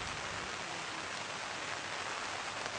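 Heavy monsoon rain in Kudremukh, Karnataka, one of India's highest-rainfall areas: a steady, dense hiss of downpour, loud and even throughout, with no voices.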